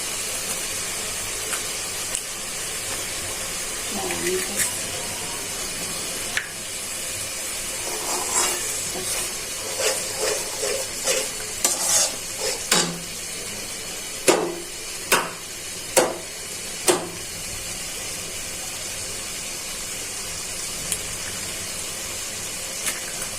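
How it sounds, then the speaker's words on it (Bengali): Eggs fry in a pan of cooked spice masala with a continuous close hiss and sizzle. A run of sharp spatula knocks and scrapes stands out midway as the eggs are stirred. "নেড়ে চেড়ে ভেজে নিই, পরে আলুটা যে কি সুন্দর ডিমটা ভাজা হয়ে গেছে।"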